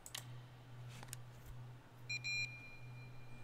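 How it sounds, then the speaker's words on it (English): Short electronic beeps from the video game Resident Evil 2, a quick cluster of bright, clipped tones near the end, heard over a steady low hum and faint game ambience. "Beep, beep."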